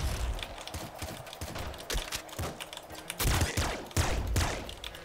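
A laser pistol fires repeatedly in the top-down shooter Nuclear Throne, sharp crackling zaps in quick irregular bursts. The shots mix with other game effects and the loudest hits come in the final seconds.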